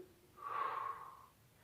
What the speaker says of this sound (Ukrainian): Ротиком видих. Вдих. Видих. Вдих. Видих.